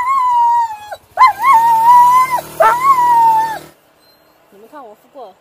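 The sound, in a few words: dog howling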